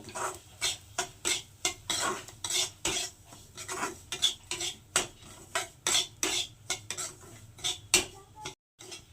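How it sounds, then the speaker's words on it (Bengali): Semolina being fried in a pan is stirred with a spoon in quick, regular scraping strokes, a close rhythmic rasp of metal on the pan repeating about twice per second before stopping near the end. "সুজিটাকে একটু সুন্দর করে লাল লাল করে ভেজে নেব"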